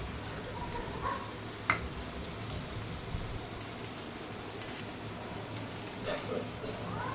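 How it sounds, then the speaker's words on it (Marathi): Spice tempering for buttermilk kadhi sizzles and crackles in a pan, a faint steady frying hiss with a few small pops and stirring sounds throughout. "आणि आता हे फोडणी पण चांगली झाली"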